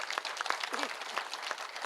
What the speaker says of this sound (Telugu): ఓకే, గట్టిగా చప్పట్లు కొట్టండి.